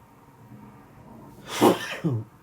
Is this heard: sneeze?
yes